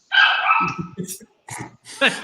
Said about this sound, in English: Sorry, my dog is going insane.